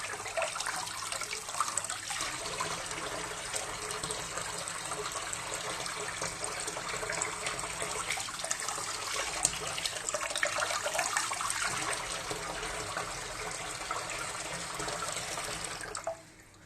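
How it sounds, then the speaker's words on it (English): Tap water running steadily over a gloved hand at a sink, a continuous loud splashing rush that holds unbroken for the whole stretch and cuts off abruptly at the end. "I'll pour some water on my hand with the gloves on. Here we are, tap's running."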